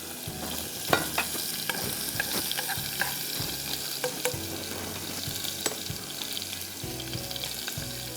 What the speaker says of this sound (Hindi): फिर हम इसमें डालेंगे पानी, डाल दूंगी पहले मैं, ताकि फिर हमारा गार्लिक ज़्यादा ब्राउन ना हो जाए